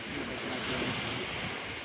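Waves wash steadily onto a natural beach on the Indonesian coast, a continuous loud roar of surf mixed with wind buffeting the microphone, with no voices.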